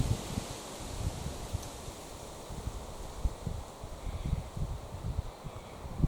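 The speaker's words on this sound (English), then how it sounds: "Listen to that wind." Soft gusts of spring wind rustle through blossom trees in low, uneven bursts, faint and distant, with no voices over it.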